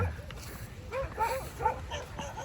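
Dogs on a beach give several short barks and yips spread across a couple of seconds, moderately close and not very loud, over a light background hum.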